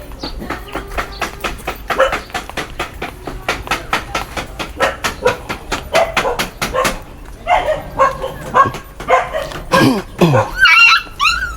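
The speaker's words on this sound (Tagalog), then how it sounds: "Wala pang nangyayari, sumisigaw na yung aso nila." A household dog barks in a rapid string of sharp yaps at close range, loud and almost nonstop, with a few whimpering yips and faint voices toward the end.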